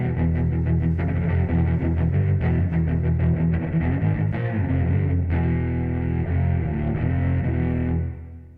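Loud distorted electric guitars and bass chug through heavy rock riffs together, sustaining steadily before ringing out and fading at the end.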